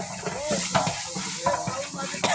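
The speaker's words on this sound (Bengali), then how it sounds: "আমাদের দ্বিতীয় পর্বের রান্নার কাজ আবার শুরু হয়ে গেছে।" Food frying in oil in a pan, stirred with a utensil, a constant loud sizzle punctuated by repeated scraping strokes against the metal, close and with no voices.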